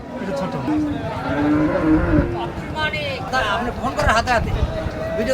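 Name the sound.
cattle mooing at an animal market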